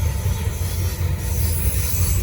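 A Norfolk Southern freight train rolls past at Gaffney, South Carolina, with a steady low rumble of wagons and faint clickety-clack of wheels, close and continuous with no voices.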